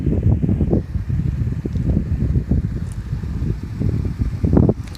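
Steady, blustery wind buffets the microphone in low rumbling gusts throughout at Quartzsite, Arizona, with a faint whoosh rising and falling; no voices.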